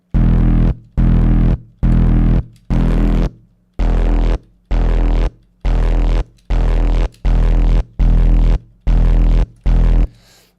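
A heavy, distorted bass synth plays in repeated chopped bursts, loud and gritty, with short silent gaps between each growling note.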